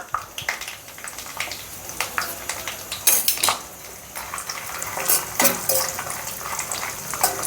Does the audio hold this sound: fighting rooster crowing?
no